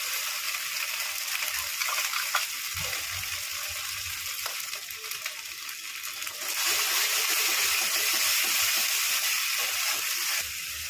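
A paste of ginger, chili, onion and garlic fries in a pan for a prawn and potato curry, giving a steady hiss and sizzle that swells louder partway through, with soft stirring scrapes.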